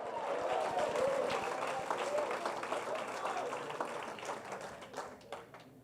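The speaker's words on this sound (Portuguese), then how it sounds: "fique de pé e dê um aplauso a Jesus mais forte que você puder" Standing church congregation giving loud applause to Jesus during a worship service, a steady clapping wash with voices and shouts mixed through it.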